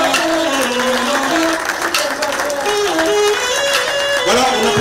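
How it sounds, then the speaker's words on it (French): Audience at a Senegal football celebration event applauding loudly, dense clapping running throughout while a voice speaks over it with rising and falling tones. "On applaudit, s'il vous plaît, on applaudit très fort ce grand moment."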